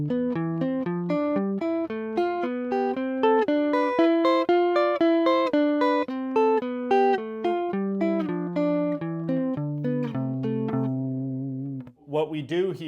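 Guitar playing sixths at a faster pace, a steady run of paired plucked notes stepping up and then back down, clear and close, ringing alone before a brief break and a few final notes.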